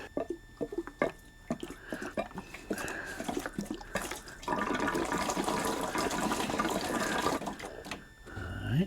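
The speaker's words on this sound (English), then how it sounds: "Got some diesel fuel, gas oil. I'm not gonna put too much in to start with." Diesel fuel (gas oil) is poured into the tank of a workshop heater. A few handling clunks come first, then a steady gurgling pour runs for several seconds close by.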